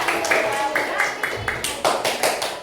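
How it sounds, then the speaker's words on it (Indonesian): Elementary school pupils in a fifth-grade classroom clap for a classmate, a scattered burst of hand claps with uneven rhythm, close and moderately loud, with voices talking over them. "tepuk tangan dulu untuk teman kalian ya"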